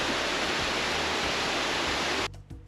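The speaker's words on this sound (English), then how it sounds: "The sound of rushing water grows louder as you near your target." Rushing water of a 20-foot waterfall in Michigan's Upper Peninsula, a loud steady broadband roar that cuts off abruptly near the end, leaving quieter ambience.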